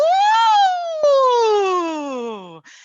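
A singer's voice imitates a siren as a vocal warm-up. It glides quickly from a low chest tone up to a high head tone, then slides slowly back down in one loud, clear sweep.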